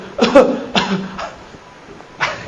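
A male preacher, voicing a hypothetical coughing food server at a religious lecture, imitates coughing with several short, harsh bursts spaced unevenly, up close, with a final cough after a brief pause.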